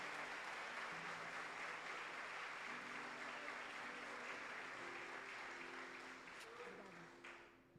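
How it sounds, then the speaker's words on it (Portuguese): A church congregation applauds in a sustained, dense round of clapping that stays even for several seconds, then tapers off toward the end, with voices heard over it. "Pode aplaudir a Jesus."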